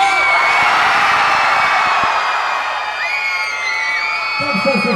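A large audience at a comedy show shouts and cheers as loudly as it can on a count of three. The roar is loud and sustained, then dies down while voices carry on.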